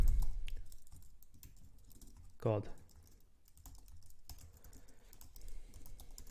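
Steady typing on a computer keyboard, quiet rapid key clicks running throughout with a brief louder thump partway in and faint background noise.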